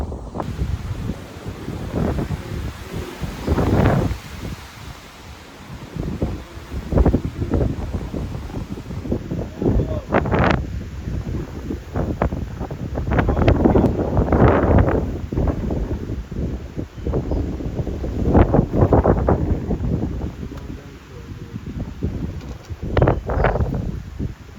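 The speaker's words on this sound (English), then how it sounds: "Got another wow moment up here, but it's windy. It is windy." Strong wind buffets the microphone on a mountain section of the Appalachian Trail, a continuous roaring rush with repeated louder gusts swelling and fading across the whole stretch, close and loud, with no talk.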